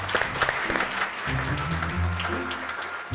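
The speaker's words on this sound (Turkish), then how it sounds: "Tek kişilik dev kadro için bir alkış rica" An audience at a children's television show breaks into applause, a dense patter of clapping running for about three seconds with a few voices under it.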